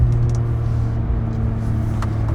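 An SUV engine rumbles with a deep, loud, steady drone and a breathy blowing whoosh, echoing inside a road tunnel, with no voices.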